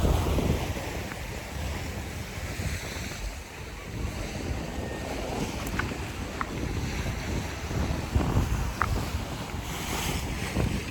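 Gusty wind buffets the microphone on a Key West waterfront morning after rain, a constant low roar with surf-like wash and a few faint clicks, no voices.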